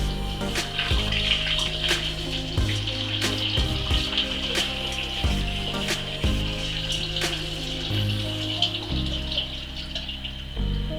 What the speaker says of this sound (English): So I'm going to take my tea solution and add that in.